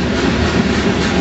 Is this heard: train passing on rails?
yes